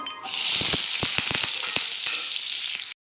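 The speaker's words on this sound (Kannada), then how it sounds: "ಇದರಲ್ಲಿ 2 ಈರುಳ್ಳಿ ಕಟ್ ಮಾಡಿ ಇಟ್ಕೊಂಡಿದ್ದೀನಿ. ಈರುಳ್ಳಿ ಹಾಕ್ತಾಯಿದ್ದೀನಿ." Two chopped onions hit hot oil in a pan for a pepper chicken dish, giving a loud, steady sizzle with scattered stirring clicks and scrapes, cutting off abruptly near the end.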